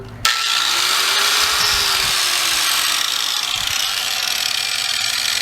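A repaired angle grinder, fixed after a frayed, shorted wire and run without its guard, starts abruptly and then holds a steady, loud, high whine with no pauses, close by.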